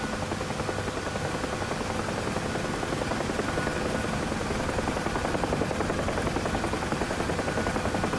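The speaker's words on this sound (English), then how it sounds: "Listen to the chopper blades." Huey helicopter in the DCS flight simulator, its rotor blades producing a steady, dense thudding chop with engine whine, loud and continuous throughout with no talk.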